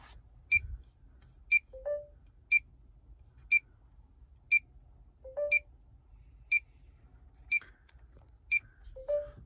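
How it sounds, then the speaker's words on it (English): An Sc7862 Android 10 car head unit emits short, evenly spaced electronic beeps about once per second during a canbus software update, with an occasional lower blip between them, against a quiet background. "during the update, it will have a beeping sound"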